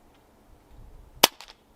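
A single sharp crack from a JTS Airacuda Max .177 air rifle sounds close and loud after a quiet stretch, followed by a quick faint rattling tail.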